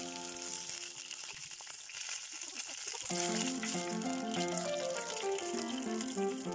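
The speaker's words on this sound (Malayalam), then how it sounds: "30 സെക്കൻഡ് നമുക്ക് ഈ വഴുതനങ്ങ ഓരോ സൈഡും ഒന്ന് ഫ്രൈ ചെയ്തെടുക്കാം" Brinjal slices fry in hot oil with a steady broadband sizzle throughout, swelling louder after a few seconds, with a musical background track underneath and no speech.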